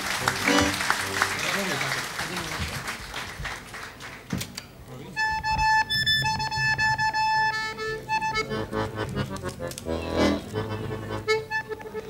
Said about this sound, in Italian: Facciamo un applauso, Vladimir e Stanislao Zubitsky.